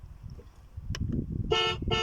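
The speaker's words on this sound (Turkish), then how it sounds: "Kornaya bastım şarkı kapandı." A Babyhope Audi Q7 children's 12-volt ride-on electric car sounds its horn, a short electronic toot followed by a second beep, cutting off a faint tune playing underneath.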